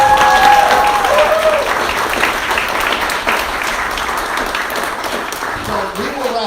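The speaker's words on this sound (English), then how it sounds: "let's give Sadie one more big round of applause" Audience applause for Sadie at a foster family gathering, a steady dense round of clapping that fills the room, loud at first and tapering slightly, with voices mixed in near the end.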